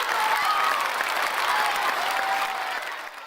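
Crowd of park guests clapping in the Forest Frontiers park simulation game, a steady synthetic wash of applause with a faint whistling tone drifting through, fading slightly at the close.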